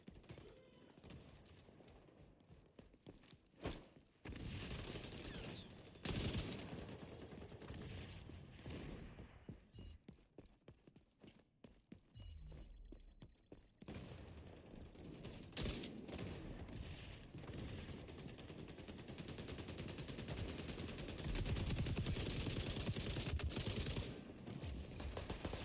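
Rapid gunfire in the shooter XDefiant, with bursts of automatic shots and booms scattered through a busy, fluctuating battle mix, some close and some farther off.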